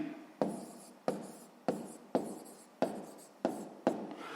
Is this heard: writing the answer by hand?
yes